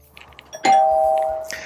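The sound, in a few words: video doorbell chime when circuit is turned on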